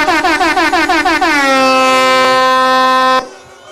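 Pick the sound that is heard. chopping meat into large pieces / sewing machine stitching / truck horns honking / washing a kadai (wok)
truck horns honking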